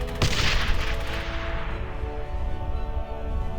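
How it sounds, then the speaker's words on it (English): Gunfire from the World War II shooter Brothers in Arms opens with a sharp, loud blast that rings out and slowly fades, its echo trailing across the next few seconds. "Gunshots and explosions pack a real punch"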